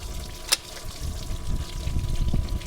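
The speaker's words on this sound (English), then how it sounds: "This is the pump, circulates the water through the engine" Water circulating through the coolant pump of a rebuilt 1931 Ford Model A Woody Wagon engine: a sharp click near the start, then a steady trickling, pouring wash of liquid close by, with no talk.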